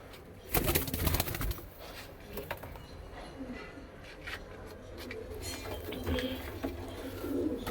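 Pigeons coo softly near and far, with bursts of rustling and flapping wings early on, inside a bird seller's coop in a Punjab village; faint background noise and no clear talk.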